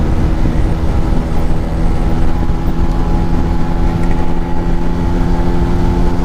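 A Bajaj Chetak scooter engine roars loud and steady as it is held open in fourth gear at speed, with constant wind and road rumble and no voices.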